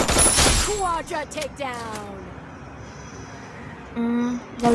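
A short burst of rapid gunfire from a battle royale mobile game in a ranked solo-versus-squad match rings out at the start, then someone talks over quieter game ambience.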